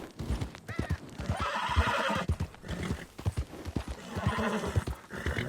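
A horse in Red Dead Redemption 2 whinnies and neighs while its hooves clip-clop steadily along a road, close and loud, with the neighs rising twice over the hoofbeats.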